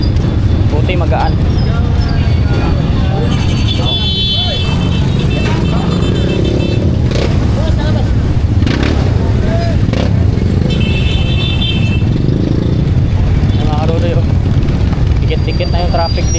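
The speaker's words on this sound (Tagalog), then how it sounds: "Dikit-dikit na yung traffic dito." Heavy, congested street traffic in Divisoria, with a dense steady rumble of engines and motorcycles, horns and crowd bustle, while people talk nearby throughout.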